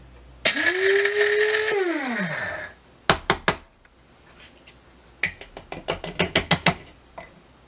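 Dried garlic is ground into powder in a small blender, a loud whirring motor burst of about two seconds that winds down. Then come a short series of sharp rattling clicks and a longer run of rhythmic clacks.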